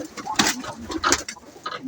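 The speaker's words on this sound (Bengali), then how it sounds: "এই কবুতর এখানে বসে আছে" Pigeons coo in short bursts nearby while one bird sits on its nest in a loft, with a person talking quietly in between.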